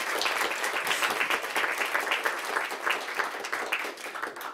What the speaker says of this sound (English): So let's give another round of applause for Christian.